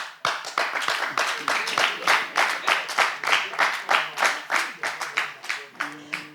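An audience at a debate claps in a strong, even rhythm of distinct, closely spaced claps that sounds fairly near and carries on for several seconds, with a voice starting briefly near the end.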